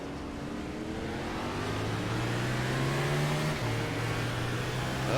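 Car pulling away from a start in third gear on a dirt track, a steady loud engine drone rising slowly in pitch, held under load with no shift, close and without talk.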